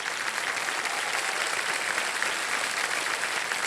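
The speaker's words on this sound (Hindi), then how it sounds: "एक जोरदार तालियां बज जाएं।" A studio audience on a televised quiz show claps loudly and continuously, a dense, even wash of applause with no voices over it.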